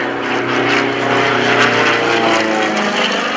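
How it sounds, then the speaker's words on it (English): A propeller aerobatic airplane flies rolls at the 2014 Greenwood Lake Airshow, its engine drone loud and steady throughout, with slight shifts in pitch as it manoeuvres. "There he goes, rolling that airplane around again"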